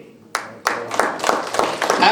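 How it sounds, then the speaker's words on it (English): Mourners clap at a memorial gathering, with sharp scattered claps building into an uneven round of applause while a voice speaks over it. "Clap goes to Swamiji and Usharani."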